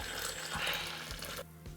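Water poured into a pink dye mix, a short splashing trickle with a few soft knocks, close and fairly quiet.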